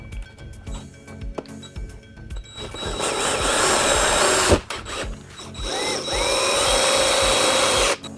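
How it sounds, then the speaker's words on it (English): A handheld power drill drives a screw in several bursts, with brief whirring starts, then two sustained loud runs of motor whine cut by short pauses, close and alone with no talking. "Go ahead and run the screw in right there."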